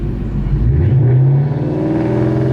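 Ford Mustang S197 engine revs up to a loud, steady drone as the clutch slips, building over a couple of seconds and holding a sustained roar with no talking.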